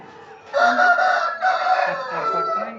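A fighting rooster of the pandem kodi game breed crows loudly and close by, one long harmonic call stretched over a couple of seconds with a brief dip midway, standing alone without talk.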